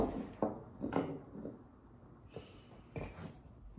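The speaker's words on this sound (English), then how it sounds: "My cat just um, punched his way through that door there." A house cat shoves its way through an interior door in an unfinished living room, giving a few soft wooden knocks and rubbing bumps close by in a quiet room.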